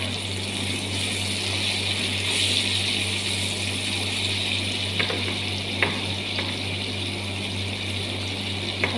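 Carrots and mixed vegetables stir-frying for pancit canton, a steady close sizzle with a few sharp clicks of a utensil against the pan near the end, no one talking.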